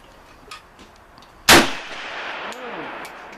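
A Hungarian AMD 65 rifle fires one loud, sharp shot at an outdoor range. A ringing tail decays over the next second or two against quiet background noise.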